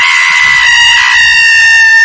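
A piercing scream from a person in a horror tale set in a haunted house, one long sustained shriek that holds steady and then bends sharply downward at the end, loud and close.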